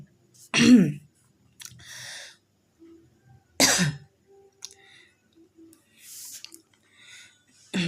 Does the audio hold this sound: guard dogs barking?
no